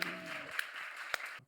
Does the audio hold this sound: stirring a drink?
no